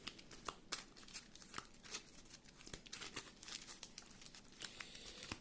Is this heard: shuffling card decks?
yes